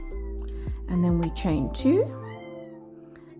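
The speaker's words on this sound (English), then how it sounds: "that's my little kitty cat meowing in the background" A small pet cat meows a few times in the background of a room while someone talks steadily over it, the meows faint and drawn out beneath her voice.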